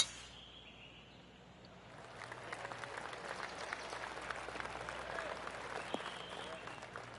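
A virtual golf crowd in PGA 2K25 applauds at the 18th hole: brief quiet, then a steady, fairly distant wash of clapping builds from about two seconds and carries on to the end.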